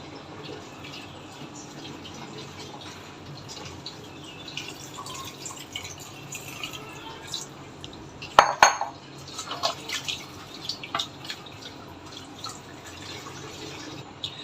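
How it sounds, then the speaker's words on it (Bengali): Water is poured into a pot of duck meat, a short splashing pour near the middle amid quiet drips and clinks of cookware, close by in a kitchen. "আমি এখানে সামান্য একটু পানি দিয়ে দিচ্ছি কষিয়ে নেওয়ার জন্য"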